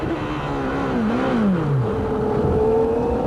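A CART race car at Elkhart Lake in 1993, its engine failing under braking, gives a loud, steady mechanical whine whose pitch wavers and slides downward, with no voices.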